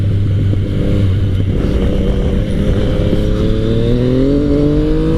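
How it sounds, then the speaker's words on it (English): A 2017 Yamaha FJ-09 motorcycle engine is heard loud and close, idling low before its pitch climbs steadily as it revs, with engine braking. "See engine braking? It's there, but it's not super strong."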